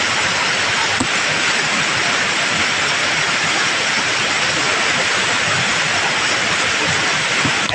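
Water pouring down from a high cliff edge near a village, a loud, continuous broadband roar of falling water with no breaks, close and steady throughout.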